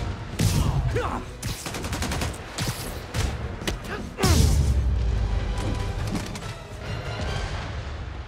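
Bursts of gunfire crack through a Spider-Man Remastered fight on PS5, several rapid volleys and heavy impacts mixed with music and action noise, loud and close, with a brief voice in between.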